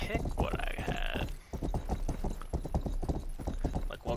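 Horse hooves clip-clop in a regular, quick rhythm while riding in the video game Rustler, the hoofbeats near and distinct, with a short tonal sound over the first second.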